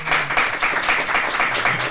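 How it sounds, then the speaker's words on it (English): A small audience claps and applauds in a talk-show setting, with brisk, steady clapping at close range and no voices over it. "So first off, we can clap that up."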